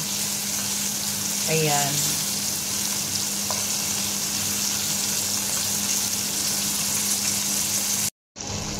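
Squid calamares fry in hot oil with a steady, bright sizzle throughout, joined briefly by a short voice and a quick clatter near the start, before a sudden cut near the end.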